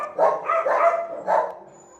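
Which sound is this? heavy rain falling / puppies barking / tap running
puppies barking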